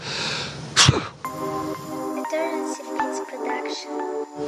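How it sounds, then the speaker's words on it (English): One sudden, forceful sneeze up close, followed by a quieter tonal hum and faint background sounds. "I'm gonna sneeze. Let's see what happens."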